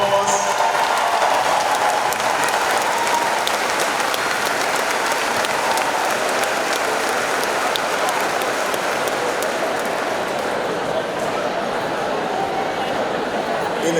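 Sustained applause from a crowd welcoming teachers, honoring staff with 50-plus years of service, a dense steady wash of clapping that holds evenly for the whole stretch without letting up.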